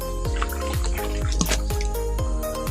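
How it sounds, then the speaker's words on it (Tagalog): Spring water pours from a pipe at a rural washing spot, making a close, steady stream of rhythmic splashes and drips over a constant low gurgle, with no voices. "Ay, dire-diretso lang ang tubig."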